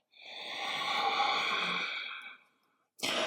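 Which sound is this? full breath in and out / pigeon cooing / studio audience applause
full breath in and out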